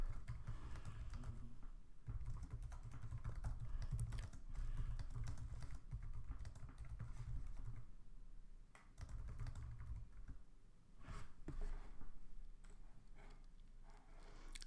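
Someone types on a computer keyboard at close range with a steady patter of key clicks and brief pauses, adding text in a Microsoft Sway presentation, with no talking.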